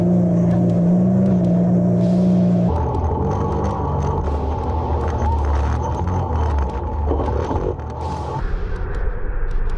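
Can-Am X3 off-road side-by-side driving a near race-like route, a steady loud engine drone with shifting pitch and rough, rattling texture throughout, no talk.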